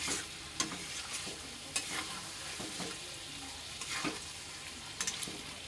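Shrimp and potatoes stir-fried with spices in a pan: a steady, close sizzle with repeated scraping stirs and occasional spoon knocks against the pan.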